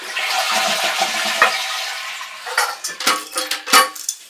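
A toilet is flushed to drain its tank, with the household water supply shut off, during an old-for-new toilet swap. A steady close rush of water gives way after a couple of seconds to gurgling, sputtering drain bursts and faint clinks.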